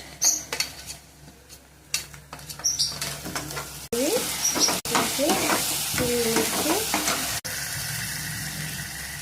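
Onion, cumin, ginger-garlic paste and chili paste sauté in a hot pan, giving a steady close sizzle broken by scraping stirs and clatter of a spoon against the pan.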